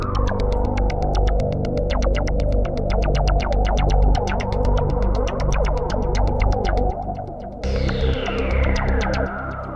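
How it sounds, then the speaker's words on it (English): Synth patch in Arturia Analog Lab 2 with a flanger effect, a loud, steady stream of rapid pulsing notes with sweeping, throbbing movement, a brief drop near the end before a swept tail resumes. "let's put the flange in for both."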